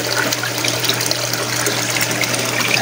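Water flows and trickles steadily into a crayfish tank on a farm, a continuous close wash of running water over a low pump-like hum, with no voices.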